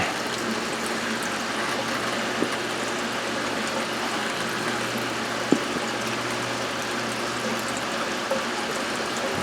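Water pours steadily into a fish tank in a greenhouse, a continuous splashing stream with a low hum underneath and a few faint clicks.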